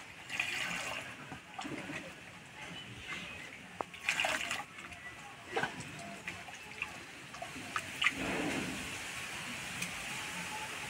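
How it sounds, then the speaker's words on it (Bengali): Grated elephant foot yam being washed by hand in water, with soft intermittent sloshing and splashing, quiet and close, scattered through the whole stretch. "এবার গেট করা ওলটা খুব ভালো করে ধুয়ে নেব।"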